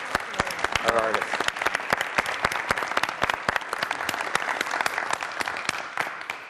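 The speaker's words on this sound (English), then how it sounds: "Can we have a round of applause for our artists?" An audience applauds artists at a university visual arts event, with dense, steady clapping from many hands lasting throughout and a voice briefly surfacing near the start.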